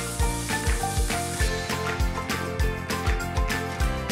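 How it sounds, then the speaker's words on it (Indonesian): Chopped spices sizzle as they are sautéed in a pan for a Nasi Koyong fish-broth dish. A steady frying hiss runs throughout with rhythmic scraping or stirring knocks, close and fairly loud, with no talking. "rempah-rempah yang sudah dipotong kecil-kecil ditumis hingga harum"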